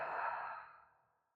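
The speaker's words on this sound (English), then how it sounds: "inhale to pull, exhale to relax" One soft, drawn-out exhale during a yoga breathing exercise, close and breathy, tapering off to silence over about a second.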